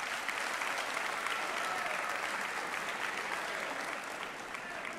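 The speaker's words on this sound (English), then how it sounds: "Give yourself another round of applause." Audience applause fills the room at Drew University's 2017 annual athletic awards ceremony, a steady, dense clapping from a large crowd that holds evenly for the full stretch and eases slightly at the end.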